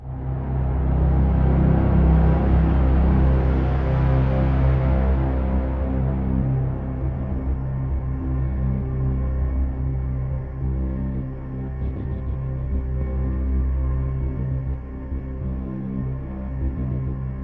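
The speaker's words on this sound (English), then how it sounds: "And then we have hits that turn into drones." A bright synth hit swells, then settles into a deep, sustained drone that hums steadily with a slight pulse, alone and fairly loud throughout.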